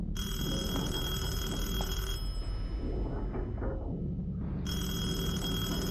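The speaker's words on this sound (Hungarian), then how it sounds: "Itt csörög a telefon." A telephone rings in the horror video game Detention: a bright, shrill bell rings for about two seconds, pauses amid low ambient game sounds, then starts ringing again.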